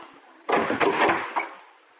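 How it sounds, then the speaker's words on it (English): A door is opened with a wooden clunk and rattle, then a brief creak and a final knock. The sounds are close and brief, with no talk over them. "Open the door, Gino."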